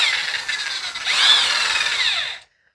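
A power drill honing the cylinders of an International Farmall 300 Utility tractor engine whirs at high pitch, its tone rising briefly mid-run, then stops abruptly; close and loud, with no talking.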